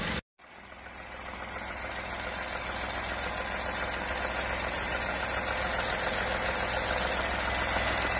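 Engine of a Toyota Raize E with manual transmission, just after a cold start: a steady, loud mechanical clatter and whine that comes in after a brief gap and holds on without a break, with no talk.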